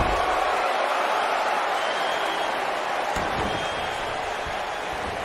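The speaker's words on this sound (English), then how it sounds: "I don't remember the last time I heard a more passionate crowd than the one we have here tonight." Steady roar of a video-game wrestling arena crowd at a WWE 2K19 TLC pay-per-view, loud and continuous across the whole stretch with a few sharp thuds partway through.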